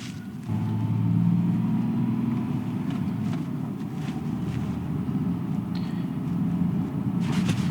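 A lowered Porsche 911 rolls slowly over a driveway bump, giving a steady, close low rumble of engine and road noise with a few faint ticks and knocks from the car.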